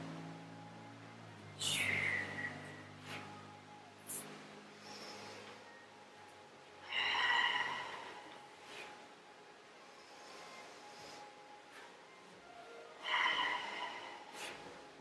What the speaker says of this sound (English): inhale as you come back. Exhale as you come front